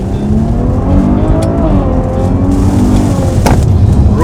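Maserati Levante SUV accelerating hard through the gears, a loud, close engine roar whose pitch sweeps upward, with a brief break at a gearchange.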